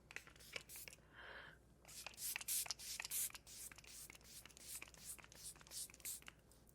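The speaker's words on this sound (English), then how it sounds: "So Anastasia Impeccable, give it a good shake. Let's do a spray and then we're done." Anastasia Beverly Hills Impeccable setting spray misted in several quick, close, breathy bursts, with faint handling rustle between the sprays.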